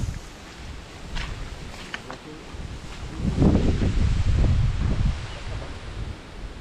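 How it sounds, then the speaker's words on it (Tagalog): Strong wind gusting through a coconut grove and fruit orchard, a steady rough rush with rustling leaves that swells louder midway, close to the microphone. "Lakas ng hangin."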